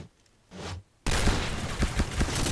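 Rapid bursts of automatic gunfire in the online shooter Point Blank: a short shot, a pause, then a loud, sustained volley of rapid-fire shots that fills the rest of the moment.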